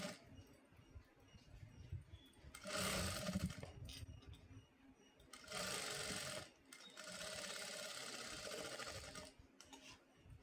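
A sewing machine stitches buttonholes on a blouse in three sustained bursts of fast, even whirring, separated by quiet pauses, with no talk.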